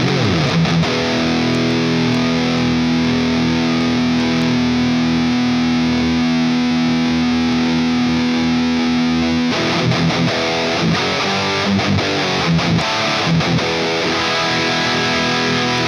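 A loud, heavily distorted electric guitar through a UAFX Anti boost pedal holds a sustained chord, then breaks into choppy, palm-muted strumming with a tight, boosted tone.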